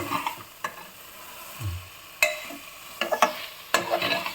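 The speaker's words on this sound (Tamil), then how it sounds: "இது நல்லா கிளறி விட்டுக்கணும்" Stirring mushroom masala for seeraga samba mushroom biryani in a cooking pot, with a few sharp scrapes and knocks of a spoon against the pot over a soft background sizzle, close and moderately loud, no talking.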